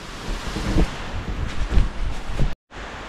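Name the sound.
strong wind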